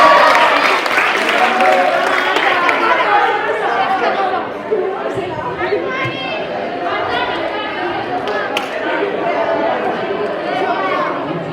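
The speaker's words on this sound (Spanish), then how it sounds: "fuerte aplaudimientos por todos los compañeros" A school audience at a student recitation event claps and chatters steadily for a group of students, a dense wash of applause mixed with crowd voices that eases slightly midway and carries on to the end.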